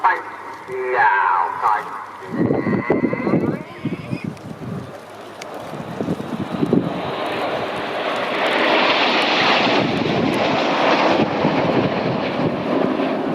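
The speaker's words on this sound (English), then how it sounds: "This is Spitfire." Supermarine Spitfire of the Battle of Britain Memorial Flight passing at the RIAT 2017 air show, its piston engine rising from a distant drone to a loud, broad roar, with a commentator speaking over the PA early on and wind buffeting the microphone.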